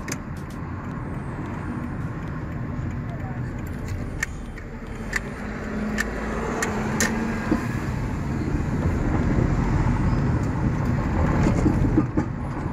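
Continuous low road rumble from inside a moving car, with intermittent metallic rattles and clinks from the undercarriage over the drone, growing slightly louder toward the end on a rough road.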